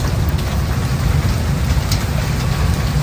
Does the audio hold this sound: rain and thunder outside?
yes